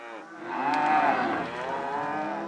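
Cattle on a farm give one long, loud, close moo that rises and then holds steady for a couple of seconds, with no talking.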